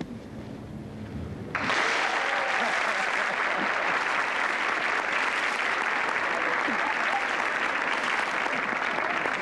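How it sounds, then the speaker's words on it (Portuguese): A television talk show studio audience breaks into loud, sustained applause after a brief quieter moment, dense clapping that stays even and strong to the end. "Você olha pro público e faz assim, ó. Eles aplaudem."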